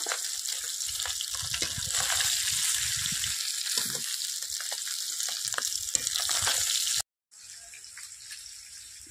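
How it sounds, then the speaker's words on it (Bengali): Pieces of rohu fish frying in hot oil in a home kitchen give a steady sizzle and crackle with some scraping, a brief dropout, then quieter sizzling near the end; no voices. "একদম লাল লাল করে মাছগুলো ভেজে নিয়েছি।"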